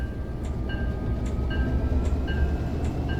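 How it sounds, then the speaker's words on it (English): A BN intermodal freight train in Train Simulator 2020 rumbles as the diesel locomotive throttles up to start moving, a steady low engine drone with faint repeating clicks and a thin high tone, no voices. "it's going to take a little bit of doing to get the train moving. Notch 3, notch 5."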